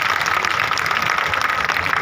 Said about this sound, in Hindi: तालियां तो बजी नहीं, जोरदार ताली बजनी चाहिए ना